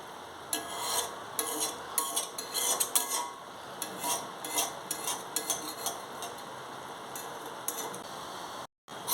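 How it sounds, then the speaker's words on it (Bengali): Water spinach being stirred and fried in a kadai, with repeated scraping and rubbing strokes of a metal spatula against the pan's sides, clattering close and fairly loud over a faint sizzle, with a brief dropout near the end. "সুন্দর করে কড়াইয়ে ধার থেকে ধার থেকে নাড়িয়ে দিয়েছি"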